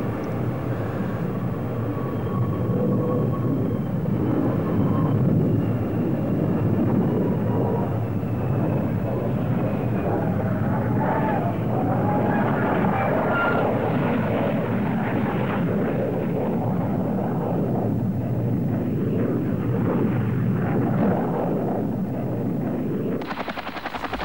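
A loud, sustained roar of a C-5 Galaxy transport aircraft landing nearby at Fort Campbell Army Airfield, Kentucky, heavy engine rumble steady throughout with no talking.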